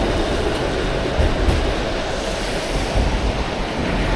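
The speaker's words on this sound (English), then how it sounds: "That is our streetcar." A Toronto streetcar passes at a downtown intersection during a snowstorm, heard as a constant loud rumble mixed with wind and roaring street noise that holds steady throughout, with no voices.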